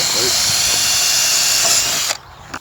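A power drill bores holes for mounting bird netting, whirring loudly and steadily for about two seconds before stopping, followed by a brief clack.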